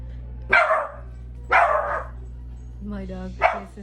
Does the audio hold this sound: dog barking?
yes